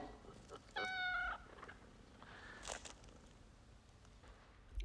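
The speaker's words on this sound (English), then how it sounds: "Oh, kitty cat." Cat meowing in the 1976 film Logan's Run, a single clear, drawn-out meow followed by a shorter, fainter cry, heard over a quiet room-tone background.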